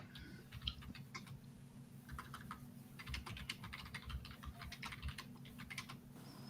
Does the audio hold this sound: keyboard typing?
yes